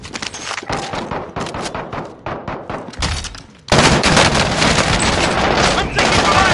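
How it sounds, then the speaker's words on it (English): Rapid gunfire in a Call of Duty: Warzone match, with loud, close bursts of shots rattling in uneven clusters before a denser, sustained barrage takes over; voices are heard amid the shooting. "I'm taking fire!"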